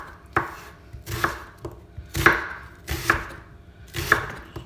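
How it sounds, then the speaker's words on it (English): A knife chops through half a white onion on a cutting board, five firm, evenly spaced thuds close by, with no talking. "chop your onion,"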